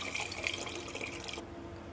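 Water from cooked dal being poured into tamarind juice for an Ugadi dish, a soft continuous splashing pour that stops abruptly near the end, with no voices.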